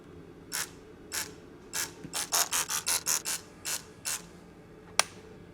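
A digital torque wrench works on a drive shaft bolt of a V12 BMW E31 850, heard as a run of about a dozen sharp ratcheting clicks that speed up in the middle, ending with one crisp click in a quiet space.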